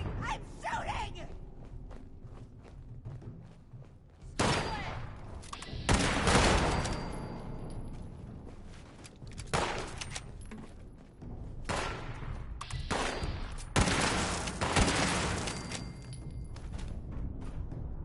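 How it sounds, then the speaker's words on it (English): Gunfire bursts in Fallout 76 come in loud, sharp volleys separated by quieter gaps, with someone talking excitedly between and over the shots. "I'm shooting! I'm shooting!"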